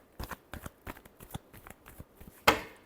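Tarot cards are shuffled in a run of quick, soft riffling bursts, close by, ending with one sharper, louder slap of the deck.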